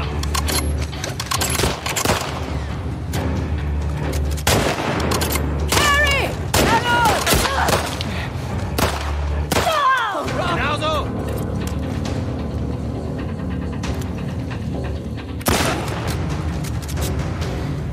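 Gunfire in the video game The Last of Us Part II, with dense bursts of shots and booms over a busy game soundtrack while people talk throughout.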